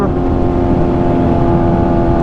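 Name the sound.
motorcycle riding on bumpy road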